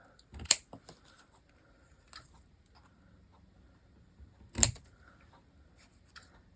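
Quiet paper cutting with scissors in a craft setting, with two sharper snips several seconds apart and a few soft ticks and rustles in between.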